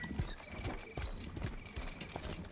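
A horse's hooves clop quietly through a night setting, a steady, evenly spaced series of soft thuds heard alone at moderate distance.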